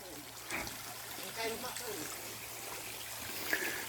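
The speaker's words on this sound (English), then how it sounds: "There's John washing his hands and feet." Water runs and trickles steadily as a man washes his hands and feet at a lunchtime stop outdoors, a continuous close splashing flow with faint background sounds.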